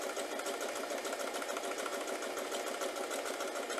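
A sewing machine runs continuously as it stitches a seam along a sewing guide, making a steady, fast mechanical chatter, close and fairly quiet, with no talk over it.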